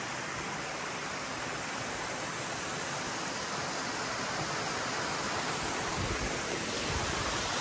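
A waterfall along the Appalachian Trail pours with a steady, dense rushing roar that stays even and unbroken throughout, with no voices over it.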